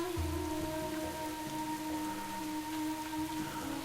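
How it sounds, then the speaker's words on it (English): Rain patters steadily in World of Warcraft: Battle for Azeroth, an even hiss with low thumps, under sustained game music tones. "Azala, sorry about the rain here"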